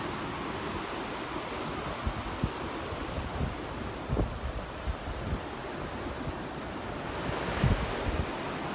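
Surf washing onto an empty beach in Marbella, Spain, heard as a steady broadband wash with soft surges and light wind noise on the mic, no voices.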